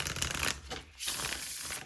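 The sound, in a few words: shuffling tarot cards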